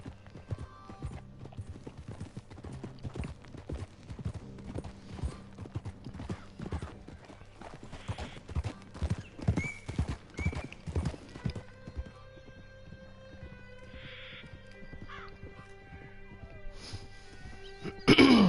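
Horse hooves clip-clopping in Red Dead Redemption 2 on PS4, a steady rhythmic trot of close, moderately loud hoofbeats that slows and fades after the midpoint, with brief whinny-like tones and a louder burst at the end.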